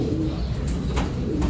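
Breeder pigeons cooing inside a loft and aviary, soft low throaty coos repeating close by over a dense background murmur.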